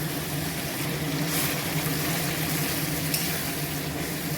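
Ground spice paste sizzling and frying in a pan for a homemade chicken curry, a constant close hiss and crackle with faint stirring scrapes and no talking.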